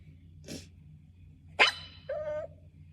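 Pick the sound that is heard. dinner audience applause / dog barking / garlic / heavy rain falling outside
dog barking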